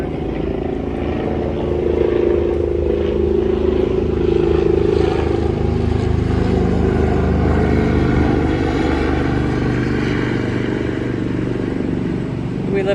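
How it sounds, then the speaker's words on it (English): A life flight medical helicopter passes over a backyard container garden in Houston, Texas, near the Texas Medical Center, its steady low rotor drone loud and continuous throughout, with a voice talking over it. "we have life flight helicopters coming by all the time"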